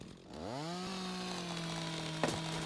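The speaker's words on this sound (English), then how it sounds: "The chainsaw is next level." A chainsaw cuts wood in the Rising World video game: the engine revs up quickly, then holds a loud, steady buzzing drone, with a brief knock near the end.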